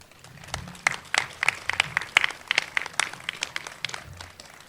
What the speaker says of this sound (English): I want to give them a round of applause and thank them.